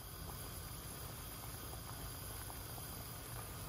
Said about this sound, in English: it has come up to a boil and it's looking good.